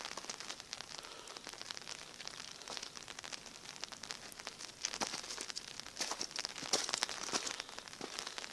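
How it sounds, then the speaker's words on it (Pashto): Rain falls steadily in a mountain village, a faint, soft patter with scattered sharper drop hits on nearby surfaces that grow a little busier toward the end, and no one is speaking. "باران د اوسه پورې وریږي"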